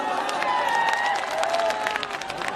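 Dense applause and cheering from a crowd at a Bhojpuri stage show, steady throughout, with a few voices calling out over the clapping.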